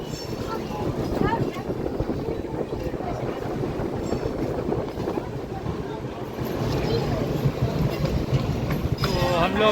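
The Durgiana Express runs at about 130 km/h, its carriage rumbling and rattling continuously from inside with rhythmic clicks of wheels over rail joints and occasional squeaks; someone talks over the noise.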